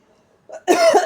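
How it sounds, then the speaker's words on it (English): A single short cough comes after a faint throat sound, close and fairly loud, alone without speech. "So at this point, I had to cough."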